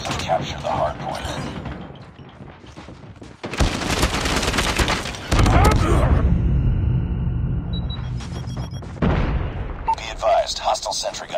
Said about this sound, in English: Deploying orbital laser.